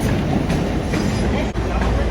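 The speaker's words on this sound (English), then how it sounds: "here's our train, let's get on board" A New York train bound for Newark station rumbles loudly and continuously, with rolling wheel noise and faint clatter, close and enveloping.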